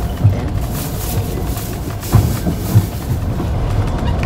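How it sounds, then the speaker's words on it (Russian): Passenger train running on rails, heard from inside the carriage: a steady low rumble with a few sharp wheel clacks on the rail joints. "А мы с Демидушкой уже в поезде, да, Дем?"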